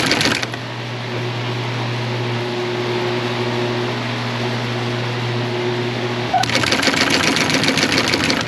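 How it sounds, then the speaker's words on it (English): Industrial sewing machine stitching a long run of webbing for a one-inch four-leg web spreader, a loud steady motor whine with rapid needle chatter, close and uninterrupted before stopping. "I sewed that whole distance"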